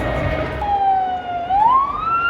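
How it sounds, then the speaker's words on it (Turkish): An ambulance siren stuck in city traffic in Adana, wailing loudly and close with a sliding pitch that dips then rises, over steady road noise. "Ambulans gidemiyor bile."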